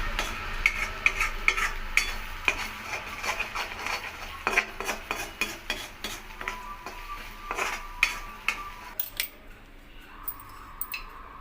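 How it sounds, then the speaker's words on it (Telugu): An egg fries in an iron pan for egg fried rice. A spatula chops and scrapes it in quick, repeated metallic taps over a low sizzle, close and busy throughout. "చూసారు కదండి, ఎగ్ని ఇట్లా ఫ్రై చేసుకోవాలి."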